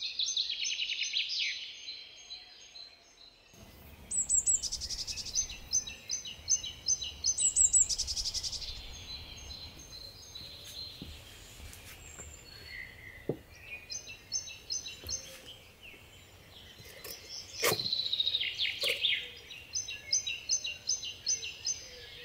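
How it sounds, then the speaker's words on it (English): Small garden birds chirp and trill in repeated bursts around bird feeders on a frosty January day, moderately close over quiet outdoor background, with occasional soft knocks and no speech. "The last couple of days the birds have really been enjoying the bird feeders that I made for them."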